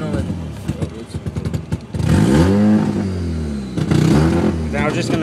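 Mazda RX-7 rotary engine on a cold start, idling with a lumpy, pulsing putter before revving up into a loud, rising drone that dips and swells again.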